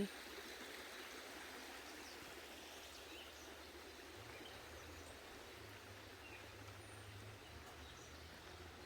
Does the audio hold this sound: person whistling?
no